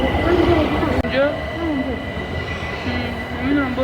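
A metro train in an underground subway station rumbling steadily, with rising and falling wheel and motor whines and squeals, loud and close, and voices murmuring beneath.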